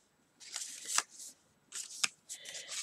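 Paper cards slide into journal pockets with a few quiet, dry rustling swishes, three short bursts close by and alone.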